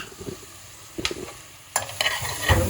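Biryani being stirred in a pot on the stove, with a few distinct close scraping strokes over a low sizzle, quiet at first and louder toward the end, with no voices.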